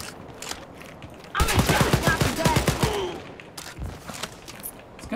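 Rapid bursts of gunfire from a weapon in the shooter game Wolfenstein: Youngblood, a loud rattling volley of close shots followed by a pause and a few more scattered hits.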